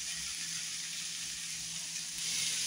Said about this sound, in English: now I'm gonna put the potatoes in the pan with the peppers and onions and start getting the